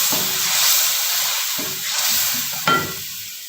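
Yogurt-laced masala frying in a karahi while it is cooked down for a fish curry, a steady loud sizzle and hiss with a few scraping stirs at regular intervals.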